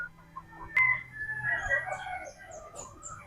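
A Boston Black gamefowl rooster crows once nearby, a sharp raspy call rising and trailing off, with a few clucks and other bird sounds around it in a quiet pen.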